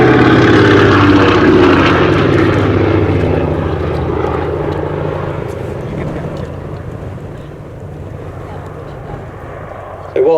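A Lockheed 12A Electra Junior twin-engine propeller plane roars past at the Sywell Airshow, loud at first and fading steadily into the distance while a commentator speaks over it.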